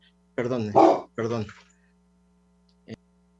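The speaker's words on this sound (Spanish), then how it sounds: "tocaron el timbre y está aquí ladrando mi perro" A house dog barks after the doorbell rings, giving two or three close, loud barks in quick succession, then a single short yip after a pause, over a faint steady hum.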